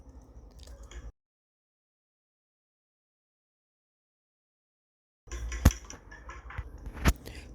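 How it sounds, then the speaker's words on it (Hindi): Raw eggs with finely chopped garlic and green chilli are stirred in a bowl, giving wet squishing and soft clinking in two short bursts separated by several seconds of silence, close and moderately loud, with no voices. "अब इन चीज़ों को हम अंडे के साथ अच्छी तरह मिक्स करेंगे।"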